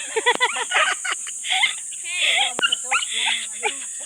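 A dog at a seaside beach yips and whimpers in quick, excited bursts close by, with people's voices mixed in around it.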